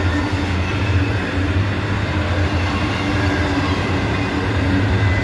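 Freight train of TTGX double-deck auto-rack cars rolling past at close range, a steady loud rumble of wheels and car bodies with low droning hum, continuous throughout without talk.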